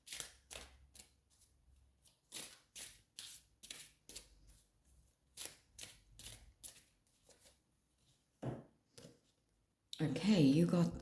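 Atlantis oracle cards are shuffled and drawn by hand. Crisp, quick riffling bursts repeat in an irregular rhythm, close and clear, with short pauses between them and a louder rush of noise at the end.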